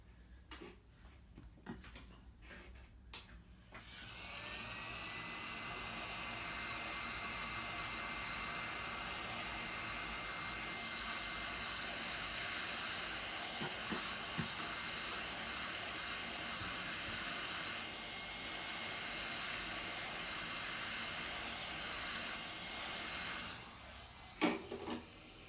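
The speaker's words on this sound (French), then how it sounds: "soit avec un sèche-cheveux ou un décapeur thermique" A hair dryer or heat gun warms the top of the glass screen on a Samsung J3 Pro J3110 phone. A few handling clicks come first, then a steady, even blowing roar runs for about twenty seconds before cutting off.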